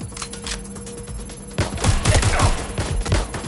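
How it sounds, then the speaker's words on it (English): Gunfire erupts in the video game Watch Dogs: Legion, first a few scattered shots, then a dense rapid fusillade of close, loud bursts over the last two seconds. "Suspect's shooting!"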